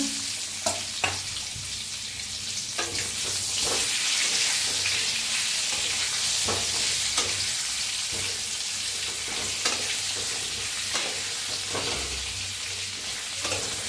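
Stuffed brinjals frying in oil with hing and turmeric, a continuous close sizzle broken by repeated sharp spatula scrapes and taps against the pan at irregular intervals, with no talking.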